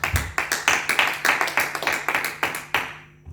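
A church congregation claps in steady, close, rhythmic unison to acclaim Jesus, about a dozen sharp beats of applause that stop abruptly and leave a quiet tail.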